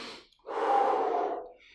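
One deep breath during a home HIIT workout: a short nasal inhale, then a longer, forceful exhale through the mouth, close and alone.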